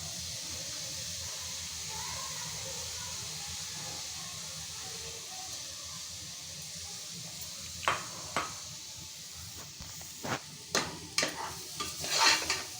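Washed mung dal being stirred and sautéed in a pan over low to medium heat, with a soft steady sizzle and hiss, then several sharp scraping clinks of a spoon against the pan near the end.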